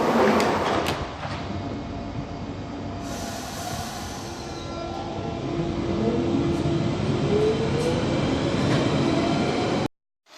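A graffiti-covered train rumbles past nearby for about ten seconds, a loud continuous roar of wheels on rails with squealing and clanking, then cuts off abruptly.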